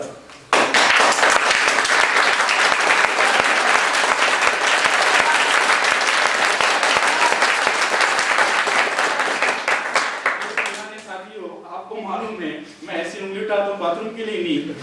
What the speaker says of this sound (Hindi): तालियों की कड़कड़ाहट बननी चाहिए